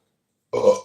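A single short burp erupts close and loud, lasting under half a second after silence, with a throaty, rumbling rise and quick fade; no talk over it.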